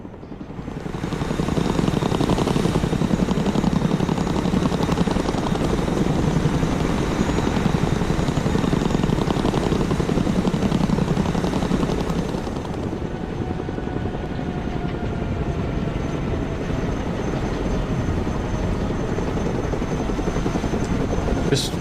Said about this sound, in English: Cargo helicopter approaching the DZ